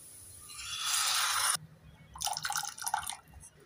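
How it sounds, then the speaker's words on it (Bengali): Chicken soup pours through a strainer, a close liquid splash building for a second and a half and then cutting off, followed by a patter of drips and trickles. "ছাঁকনি দিয়ে ছেঁকে দিয়ে দেব।"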